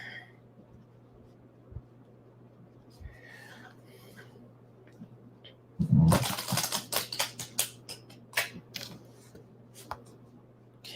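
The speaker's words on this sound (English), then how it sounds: "So I'm gonna shuffle this deck here." A quick riffle of cards snaps through midway, followed by several crisp taps and flicks of the deck, fairly close, against a quiet hum.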